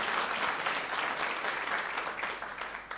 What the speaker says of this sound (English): I think he deserves a big round of applause.